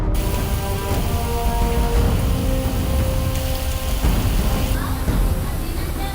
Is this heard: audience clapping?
no